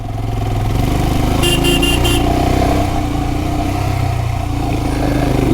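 A Royal Enfield Himalayan motorcycle climbs uphill near Yercaud with a pillion aboard, its steady, close thumping engine drone dominating, with a brief series of horn beeps partway through.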